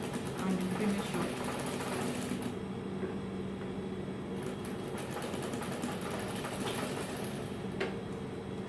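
Sewing machine stitching the side seam of a flared dress, a continuous fast mechanical whirr running steadily throughout at moderate level with no talking.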